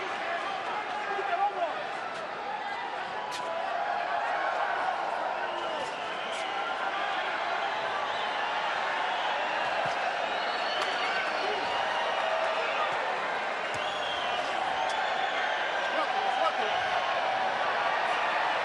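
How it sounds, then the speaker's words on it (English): Boxing arena crowd at the MGM roaring steadily through a title fight as fans do a wave, a dense continuous wash of cheering with scattered shouts, under a commentator's voice. "And the crowd very much into this fight. A wave going on here at the MGM."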